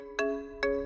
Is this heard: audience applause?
no